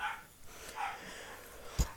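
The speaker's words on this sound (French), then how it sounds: "ça continue d'aboyer, mais tant pis pour elles." Dogs bark some way off, giving a few faint, scattered barks, with one sharper yelp near the end and a quiet room in between.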